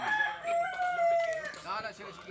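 A rooster crows in a farmyard with chickens, a drawn-out, fairly loud call lasting about a second and a half, set against background clucking and ambient noise.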